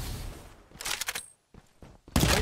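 Gunfire from a Farlight 84 battle-royale match, with bursts of sharp shots clustered around the middle of the clip and again at the end, loud and close, separated by quieter gaps.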